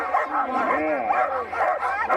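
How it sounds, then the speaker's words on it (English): Alaskan Husky sled dogs at the start of a mushing race, excited yipping and whining howls close by, continuous and loud with voices around. "Alaskan Husky"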